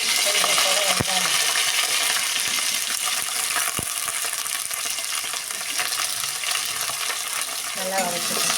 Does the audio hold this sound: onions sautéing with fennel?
yes